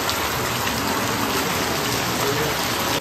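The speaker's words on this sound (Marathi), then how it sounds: "पाऊस पण पडायला सुरुवात झालाय" Steady rain falls in a dense Konkan forest, a constant even hiss with close drops, loud and unbroken, with no talk.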